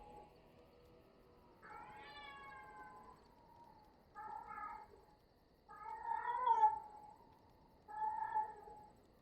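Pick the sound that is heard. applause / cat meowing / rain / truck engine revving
cat meowing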